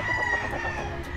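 Roosters crowing at a chicken farm in Isabela Province, a sustained strained crow standing out over a busy background of other fowl and faint farm clatter.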